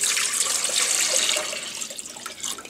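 Water pours steadily into a saucepan set over high heat, a bright, continuous splashing rush that fills the space close up, then thins to a lighter trickle and a few splashes near the end.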